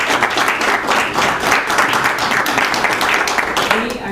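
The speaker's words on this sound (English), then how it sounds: "How about a round of applause for them?" Audience applause at a township board meeting, a steady burst of many hands clapping close by for about four seconds, with a voice faintly heard near the end.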